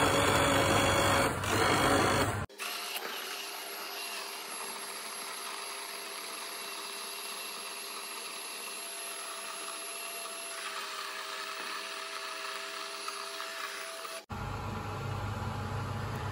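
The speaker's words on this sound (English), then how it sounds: "now I'm gonna go ahead and take my blender, and I'm just going to blend this whole thing up" A blender purees soft boiled vegetables for spaghetti sauce, a loud, steady motor whir running unbroken for about twelve seconds, with louder, harsher noise before it starts and after it stops.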